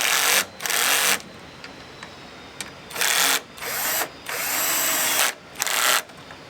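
A power drill tightens screws on a 7-wire magnetic trailer plug mount in several short bursts, each a second or so of loud whirring separated by brief pauses.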